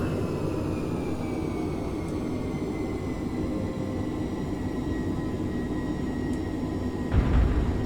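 A Chengdu J-20 fighter jet lands in Microsoft Flight Simulator, its engine a continuous roaring whine with slowly falling tones, ending in a low rumbling thump at touchdown.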